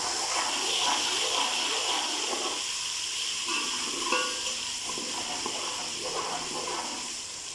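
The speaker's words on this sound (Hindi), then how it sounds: "प्याज हमारे फ्राई हो गए हैं। अब इसमें डालते हैं लहसुन अदरक का पेस्ट जो बनाया था।" Fried onions sizzle in a pan as garlic and ginger paste goes in, a steady bright hiss with soft crackles and spitting throughout.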